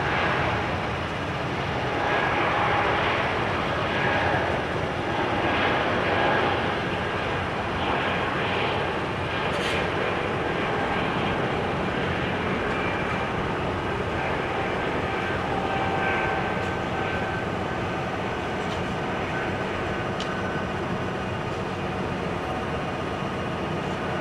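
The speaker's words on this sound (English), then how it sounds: "Air Baltic, Bombardier C-Series 300, A220 to Vilnius." An Air Baltic Airbus A220-300 (Bombardier C-Series 300) departs Amsterdam Schiphol in showery weather, its jet engines a continuous loud roar heard at a distance with no talk.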